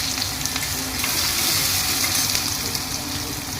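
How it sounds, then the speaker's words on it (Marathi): Chopped onion frying in hot oil as the tempering for a squid fry, a steady, loud, close sizzle that crackles continuously without pause and with no voices. "फोडणीला कांदा टाकते."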